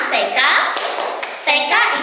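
Children at an Islamic kindergarten join a teacher in a rhythmic clapping chant, quick hand claps and taps mixed with lively spoken and chanted voices throughout.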